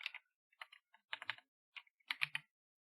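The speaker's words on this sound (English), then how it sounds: "You're gonna hear me typing." Close, crisp keystrokes on a computer keyboard come in short irregular bursts with brief pauses between them, in an otherwise silent room.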